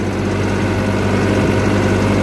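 A New Holland 855 tractor engine runs steadily at close range, a loud, even low rumble with a vibrating drone and no talking.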